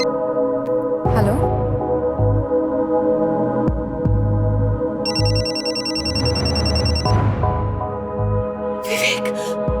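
A mobile phone rings in a tense crime drama scene, its electronic ringtone repeating loudly in bursts over a dramatic musical score.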